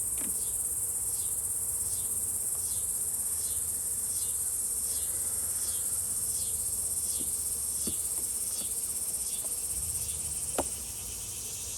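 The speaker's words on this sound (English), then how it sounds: "Looks like there's some bees down in there." Honeybees in a storage hive box give a steady, continuous insect hum that holds at an even loudness for several seconds, with a few faint knocks and clicks nearby.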